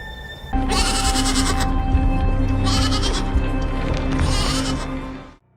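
Goat bleating loudly and close, in three long, strained bleats that run back to back with no pauses and no voices.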